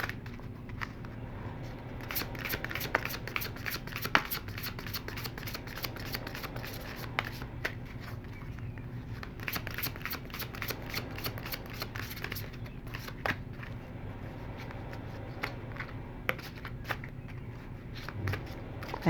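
Tarot cards shuffled by hand at close range, a steady, continuous riffling and sliding of a Psychic Tarot deck with frequent crisp flicks and card snaps, fairly quiet and without talk.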